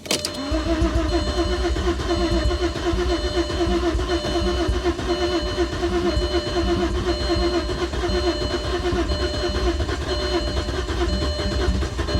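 Close, loud and sustained cranking from an Audi A6 Avant Quattro on a booster pack, a steady grinding drone that keeps going with the engine close to firing but not yet running.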